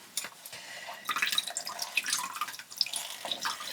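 Juice from a big lemon drips and trickles from a citrus press, a close, light patter of wet drops that thickens after the first second and stays fairly quiet.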